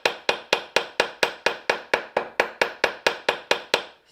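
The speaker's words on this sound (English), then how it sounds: "This is a planishing hammer. It's a much more gradual dome, and it's going to leave far fewer marks." Planishing hammer strikes sterling silver in a steady run of about sixteen crisp metallic taps, evenly spaced and close, with no talking.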